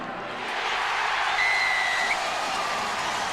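Stadium crowd at a Bradford versus Wigan rugby league match roaring after a try, a broad sustained far-off wash of cheering with a faint whistle-like tone rising briefly in the middle.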